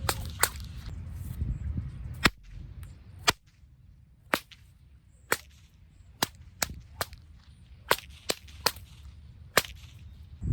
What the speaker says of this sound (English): When you come out of that overhead crack, you are perfectly set up to enter that overhead volley from a sidearm flick.